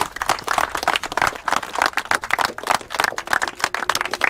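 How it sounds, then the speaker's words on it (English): Audience applause during a third-anniversary recap talk show, moderately loud clapping that keeps a busy, uneven rhythm for a few seconds with no talk over it. "So let's definitely give them a round of applause for that."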